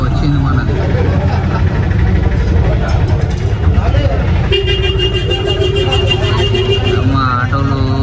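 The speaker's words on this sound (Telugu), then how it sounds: "ఆటోలు ఒకటి తిరుగుతున్నాయి గల్లీలో," Auto rickshaws moving through a narrow lane make a steady, loud engine drone with repeated horn toots, and voices are heard in the mix throughout.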